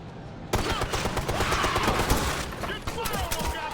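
Sustained automatic gunfire in the video game Ghost Recon Future Soldier, dense overlapping bursts and a rapid fusillade loud and close, with shouted squad voices mixed underneath.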